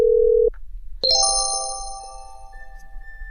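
A phone call connecting after dialing: a short steady tone, a brief pause, then a bright ringing chime with sustained ringing notes that slowly fade, fairly clear with no talking.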